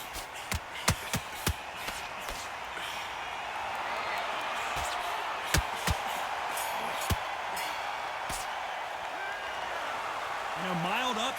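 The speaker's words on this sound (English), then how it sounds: "Ooh, listen to that crowd. Nobody's happy with that." A boxing crowd in the Undisputed video game reacts to a draw decision with a sustained, loud murmuring roar. Scattered thumps and claps punctuate it, and a voice talks over it.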